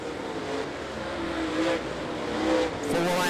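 Super late model race cars on an oval track, engines droning steadily from mid-distance as the leader pulls away through turn four toward the white flag, with a broad roar swelling and easing as cars pass.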